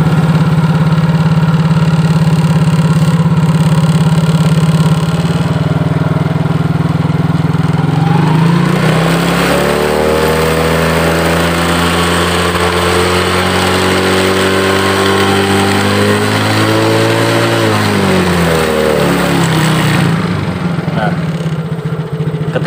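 Motorcycle engine idling, then revving as the throttle opens, pitch climbing and holding high before dropping back to idle, loud and close; a voice speaks briefly.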